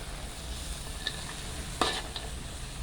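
Bean sprouts and cauliflower stirred in a hot pan, a soft continuous sizzle of frying with a couple of brief scraping clinks from the utensil against the pan.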